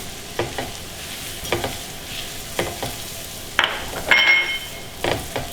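Arborio rice goes into a hot pan for beet and chili risotto, with sizzling and repeated spoon-stirring scrapes against the pan, up close, plus a brief clink of cookware near the end.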